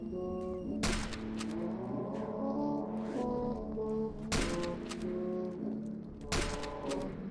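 Three loud, sharp gunshots ring out in the video game Industrial Nightmare, spaced a few seconds apart over sustained tonal background music.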